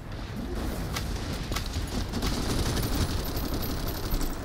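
Rapid gunfire in a cooperative PvE shooter game, a steady crackle of shots running continuously throughout at moderate level, with faint high chirping over the top and no talk.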